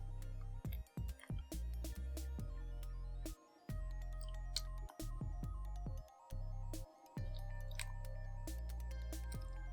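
Water dripping and trickling onto absorbent crystals taken from disposable diapers, heard as a close, quiet run of irregular wet ticks, squishes and small splashes with brief pauses, without talking.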